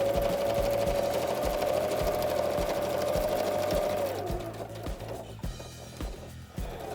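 A sewing machine stitches a small fabric handkerchief holder, running in a fast rhythmic whir with a steady tone before slowing into a few separate, slower needle thumps.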